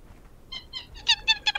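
Small kittens meow in a video game set on a desert island, a series of short, high mewing calls that start faint and grow louder, the last three sharp and close together, with no talking.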